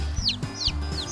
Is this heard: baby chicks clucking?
yes